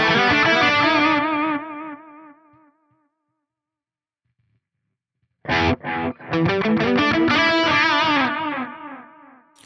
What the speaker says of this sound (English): if I put the delay before the cab, in this case, the cab is on a mono setting, so it's only going to give me one side of that delay